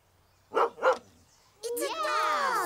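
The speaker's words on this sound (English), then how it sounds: "It's a dog!" Dog in a children's cartoon barking twice in quick succession, near and clear, followed by bright music and sparkling effects.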